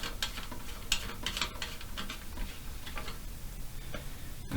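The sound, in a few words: unscrewing the nut of a toilet valve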